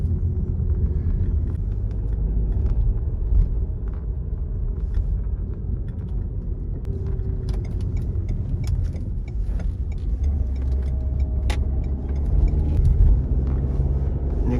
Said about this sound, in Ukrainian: Їде машина добра